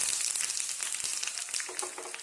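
Curry leaves hit hot coconut oil in a continuous loud, close sizzle with fine crackles running throughout, without any voices.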